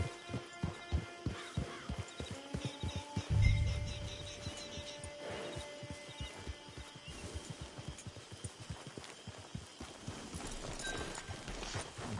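Horse hooves in Red Dead Redemption 2 Online clip-clop in a quick, regular rhythm, with a brief heavier thump partway through and a soft background hum.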